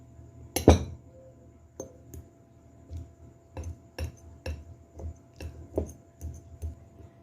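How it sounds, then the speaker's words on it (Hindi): Boiled eggs are mashed in a bowl, giving a sharp clink first and then a series of soft, rhythmic taps and knocks of a utensil against the bowl, close and fairly quiet. "एक फुल मैश करके स्मैश करके इसमें डालेंगे"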